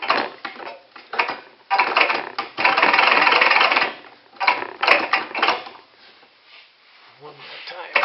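A Mercedes OM606 diesel engine cranks over with a rough, uneven churning on the starter in bursts, loudest in the middle and fading toward the end, heard close up.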